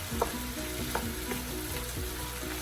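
Onions and seasoned potatoes fry in a pan with a steady, fairly quiet sizzle and a low hum, and a few soft stirring knocks spaced through it.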